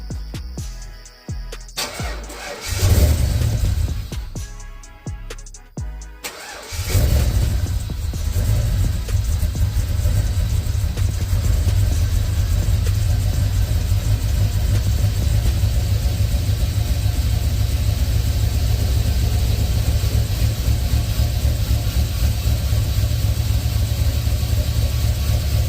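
A car with a sheet metal intake cranks in a few short bursts, then catches and settles into a steady, loud, low idle rumble that continues unchanged to the end.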